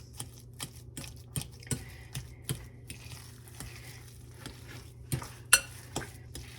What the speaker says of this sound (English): then we're going to mash with a fork